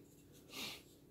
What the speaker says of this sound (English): sorry for the sniffles here